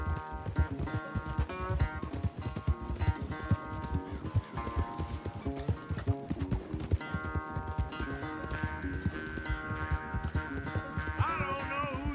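Rapid rhythmic hoofbeats of a horse galloping in a video game race, steady clip-clop over a musical backdrop, with a brief whinny.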